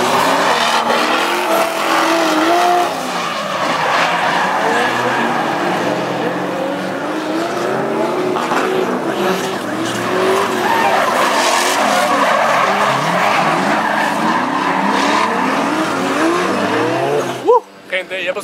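A Nissan 240SX drifting on its first outing: a loud, continuous tire squeal with the engine roaring and revving close by for nearly the whole stretch, and voices faintly underneath.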